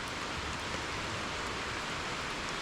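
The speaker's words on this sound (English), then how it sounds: "Listen to the rain! It's come on heavy." Heavy rain pouring down during a coastal thunderstorm, a dense, even hiss of drops on surfaces, close and constant with no thunder or voices.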